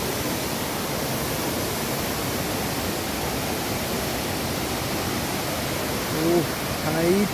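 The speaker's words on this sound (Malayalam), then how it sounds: "വെള്ളച്ചാട്ടത്തിൻ്റെ ഏറ്റവും താഴെയുള്ള പൊസിഷനാണിത്" Kattikayam waterfall heard from its base, a steady, dense roar of falling water filling the whole clip, with a brief voice near the end.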